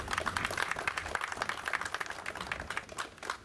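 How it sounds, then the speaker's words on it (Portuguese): Many hands clapping for a speaker at a formal ceremony: dense, steady applause of many small claps, rather distant and fairly quiet, lasting a few seconds. "Um aplauso."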